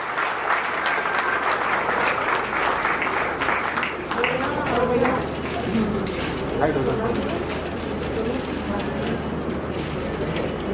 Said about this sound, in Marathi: जरा जोरदार टाळ्या वाजवायच्या आहे.